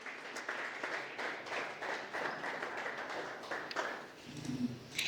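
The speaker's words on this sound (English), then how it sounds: "I want a warm clap for Mr." A small crowd at a grand opening event claps for a speaker. The applause is fairly quiet and uneven, with distinct individual claps that thin out near the end.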